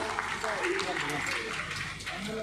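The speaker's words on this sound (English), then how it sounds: "I need a big round of applause." Audience applause at an event in New Town for Novesta Group, steady dense clapping from a crowd heard for a few seconds with voices mixed in.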